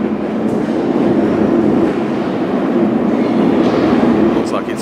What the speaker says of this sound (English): I think our train is approaching. I can certainly hear it.